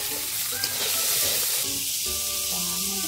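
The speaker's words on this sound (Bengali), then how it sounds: "এখন গরম কড়াইতে তেল দিয়ে তেজপাতা আর পাঁচফোড়ন দিয়ে দিল কুচনো পেঁয়াজ" Chopped onion sizzles in hot oil in a kadai with bay leaf and panch phoron, a steady loud frying hiss filling the whole stretch, close and continuous, with no talk.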